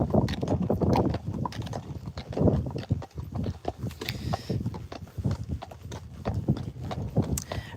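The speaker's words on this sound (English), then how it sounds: "He's puffing a little bit because this has been, you know, quite a walk out for him today." A Friesian horse in a thick winter coat walks on a warm day, hooves clip-clopping steadily up close with some breathy puffing, while people talk intermittently.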